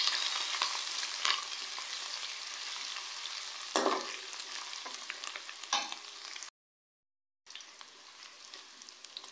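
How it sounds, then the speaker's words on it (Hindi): Ginger garlic paste fries with onion in a pan for keema biryani, a steady sizzle broken by occasional stirring scrapes, then a short silent gap before the frying resumes, with no speech. "अदरक लहसुन के पेस्ट को हम लोग 1 मिनट तक फ्राई करेंगे।"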